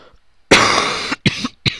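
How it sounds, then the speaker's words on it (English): A harsh, close cough bursts out, followed by two shorter coughs in quick succession, with no talking. "Sorry, I have a bit of a cough."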